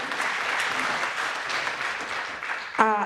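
An audience applauds steadily at a theatre season launch, a moderately loud wash of clapping that ends as a voice briefly cuts in.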